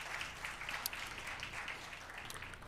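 A crowd at a census preliminary report release claps steadily for a few seconds, a dense, even roomful of applause with a few louder individual claps, no talking.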